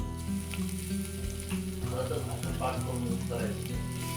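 Crushed garlic and ginger with cumin frying in hot oil for a spicy home-style curry, a steady close sizzle with stirring scrapes, while a voice talks over it throughout.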